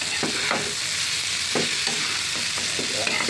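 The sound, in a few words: stirring ginger garlic into frying mixture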